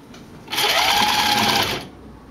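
A sewing machine runs close up in one continuous, even whir of just over a second while sewing a Y-back racer tank top, with no talking over it.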